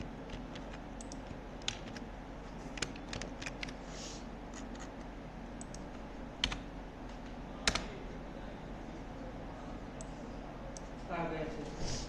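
Someone types code on a computer keyboard while working in Node.js. The keys patter in light, scattered taps and a few louder clicks over a soft steady background.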